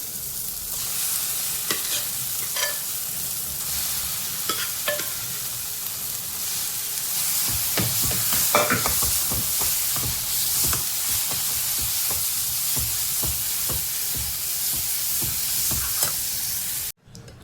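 Ambada saag, a Konkani hog plum curry, hisses and sizzles as it goes into a hot pan and is stirred, with steady close frying and scraping clicks of the spoon until an abrupt stop.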